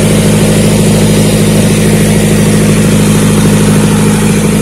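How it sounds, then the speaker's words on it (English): Turbocharged Toyota 1NZ-FE four-cylinder engine fitted in a VAZ Lada, idling without load on its first turbo start, a loud, steady, close drone with no talking. "The engine is not on any load right now, right?"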